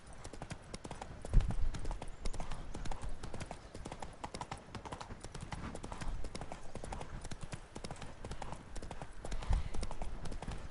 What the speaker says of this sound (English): Vamos a quemar al caballo aquí de plano.